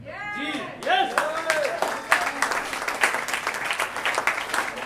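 An audience applauds as Vishal Vats is welcomed at an RCM event, uneven rhythmic clapping rising after a voice speaks briefly at the start, with some cheering mixed in.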